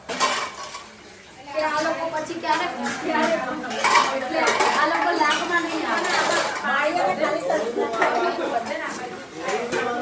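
Pots and metal dishes are handled and stacked continuously, giving a dense run of clanks and clinks heard closely while people talk over them.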